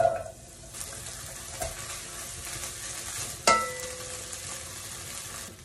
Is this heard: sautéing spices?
yes